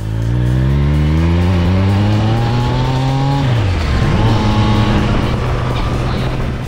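Engine of a 2023 Triumph Street Triple RS motorcycle, loud and close, revving up steadily through a long climb, dropping sharply on a shift, then pulling again at high revs.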